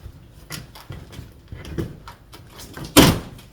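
A front door opens as someone heads out pushing a folding hand cart, producing a series of soft clunks and shuffling handling noises that end in one louder, sharp knock near the end, with no talking.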